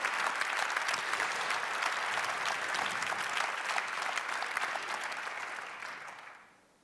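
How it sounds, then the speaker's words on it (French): Sustained applause from the audience at a Cit'ergie 2015 label award ceremony, a dense steady clapping that fills the room for several seconds before tapering off at the end. "Plus fort vos applaudissements, s'il vous plaît."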